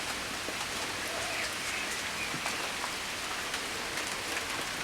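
Steady rain falls on a garden in May, a dense, even hiss of drops with occasional louder close patters, continuous and unbroken with no voices.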